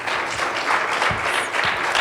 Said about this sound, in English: Everyone give a round of applause for your panelists